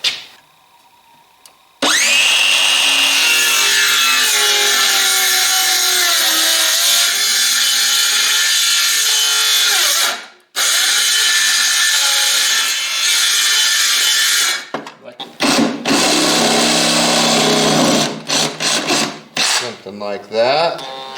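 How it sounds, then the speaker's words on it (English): A small section of wood is sawn out of a board used to mount a reloading press. Loud, steady rasping cuts run for a long stretch with one brief pause, then break into shorter, choppy strokes. "I'm going to cut out a small, tiny little section of wood"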